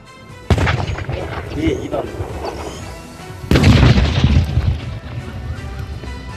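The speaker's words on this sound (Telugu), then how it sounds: "అక్నూర్ సెక్టార్లో పాక్ బాంబును సైన్యం నిర్వీర్యం చేసింది" Army bomb disposal detonation of a Pakistani artillery shell in the Akhnoor sector, Jammu and Kashmir: two loud, sudden blasts a few seconds apart, each followed by a rumbling tail of debris and echo, heard in the open.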